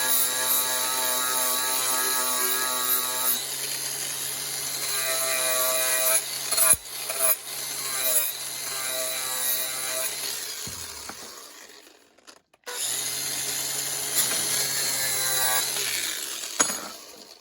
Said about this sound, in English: scale from the forge off of these before you start filing on them. So I do that with a wire brush.